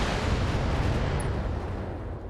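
Missile impact in the BattleTech video game, a continuous heavy rumbling blast that swells and fades over a couple of seconds, loud and alone.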